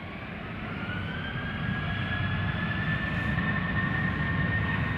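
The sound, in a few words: KLM Boeing 737-800 jet departing Schiphol for Berlin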